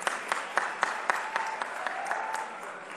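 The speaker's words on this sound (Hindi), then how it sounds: "जरा एक बार ताली बजा के उनका स्वागत करें" A crowd at a sports-encouragement event applauds to welcome a guest, with steady clapping under sharper periodic claps near the microphone, moderately loud throughout.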